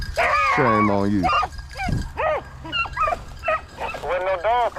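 Hunting dogs bark, yip and whimper close by during a rabbit hunt, sounding in quick irregular bursts with a long howling bay at the start.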